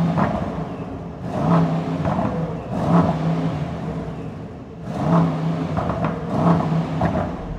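A 2025 Mercedes S63 AMG 802 hp V8 hybrid engine blips its throttle several times, short loud revs rising and dropping back to a rumbling idle between them.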